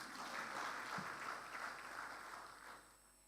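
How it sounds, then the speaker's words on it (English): Audience clapping at a women's finance event in Kenya, a soft, fairly distant wash of applause that holds steady and then fades toward the end. "please clap."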